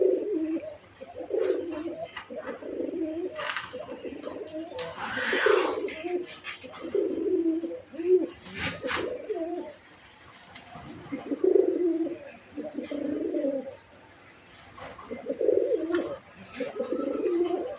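Red Raj Golla pigeons coo in repeated soft, throaty bursts, with brief pauses and a few sharp clicks and flutters between calls, close by in a quiet room.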